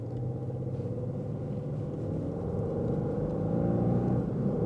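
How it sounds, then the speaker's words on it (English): A 2016 Bentley Flying Spur accelerating under light throttle, its engine giving a steady, close low rumble that builds slightly toward the end, with no talking. "Just applied a little pressure to the gas pedal"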